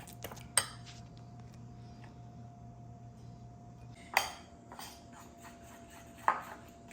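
Cashew butter cookie batter is mixed in a bowl, heard as a few sharp utensil clinks against the bowl separated by quiet stretches, with faint rubbing between the knocks.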